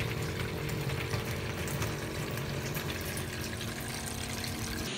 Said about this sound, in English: Turn the water on, and we're going to see how it drains down into here.